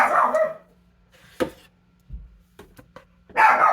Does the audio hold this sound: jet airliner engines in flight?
no